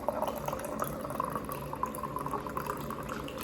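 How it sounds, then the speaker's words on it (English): Coffee poured from a spout into a cup, a steady trickling, splashing stream with small drips running continuously for a few seconds, fairly close and clear. "you just pour in your coffee"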